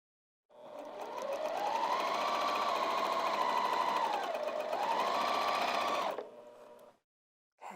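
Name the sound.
sewing machine stitching lounge pants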